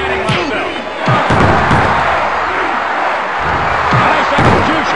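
Wrestling arena crowd roaring in WWF War Zone on the N64, loud and sustained cheering with chant-like swells, punctuated by thuds and slams of in-ring impacts and a commentator's voice talking over it.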